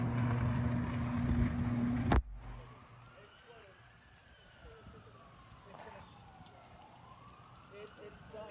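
A police car siren as police rush to a scene: a loud noisy burst cuts off abruptly, then a faint, distant siren slowly rises and falls in long wailing sweeps under low background rumble.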